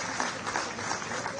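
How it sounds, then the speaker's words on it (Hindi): Applause from an audience at a Haryana government event with the Chief Minister, a dense steady clatter of clapping that fills the short moment without a break. "तालियां जोरदार जरा आप सबकी तरफ से हो जाए।"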